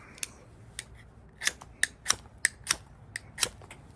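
Back of a cheap knife scraped against a ferro rod to throw a shower of sparks, about a dozen sharp, bright scraping strikes at an uneven pace, close and unaccompanied by talk.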